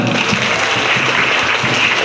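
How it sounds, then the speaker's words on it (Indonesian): A group claps hands together on command during a discipline training session, a dense burst of applause filling the short moment at close range with a faint voice underneath. "Tepuk tangan."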